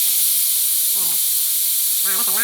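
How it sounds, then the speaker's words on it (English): Steam hisses loudly and steadily from a Bella 8-quart 10-in-1 multi cooker during a quick pressure release while cooking pork sinigang stew, a continuous broadband rush with a couple of brief voiced sounds over it. "right now, let's do the quick release real quick and let's see what happens"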